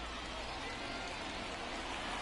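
In MLB The Show baseball, steady rain falls on the ballpark on a rainy night, an unbroken dense hiss filling the whole moment with no gaps.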